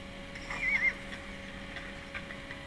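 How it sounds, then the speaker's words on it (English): A horse whinnies in the Minecraft Legends video game, a short, faint whinny over a steady low in-game background hum with soft hoof clip-clops. "But the horse makes sound."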